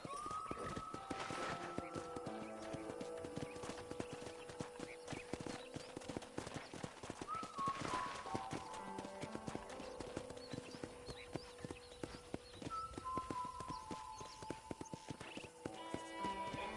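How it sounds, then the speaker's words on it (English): Horse hooves clip-clop at a steady riding pace in a video game, close and continuous, with an occasional whinny and sustained musical tones underneath. "let's see if you can still ride a horse."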